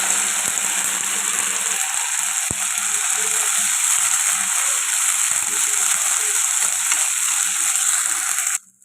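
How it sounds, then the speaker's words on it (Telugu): Ginger garlic paste frying in a pan, a steady loud sizzle and hiss with faint stirring clicks, cutting off abruptly at the end. "అల్లం వెల్లుల్లి పేస్ట్ ఇలా ఫ్రై అవుతుంది కదండి"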